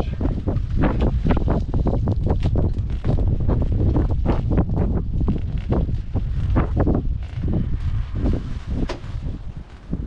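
Strong wind on a rainy day of fishing buffets the microphone continuously, roaring and gusting in loud irregular bursts throughout.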